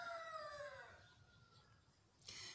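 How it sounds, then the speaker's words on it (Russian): A rooster crows faintly in a rural village garden. A single drawn-out call trails downward and fades, then a brief sharper sound follows near the end. "Петухи поют, соловьи поют."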